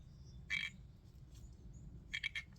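A frog croaking in a garden right beside the camera, two short rasping croaks, the second a quick stuttering burst of three pulses, faint and close over a low background hum.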